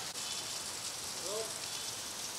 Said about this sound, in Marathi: छत्रपती संभाजीनगरमध्ये गेल्या 1 तासापासून संततधार पाऊस पडत आहे।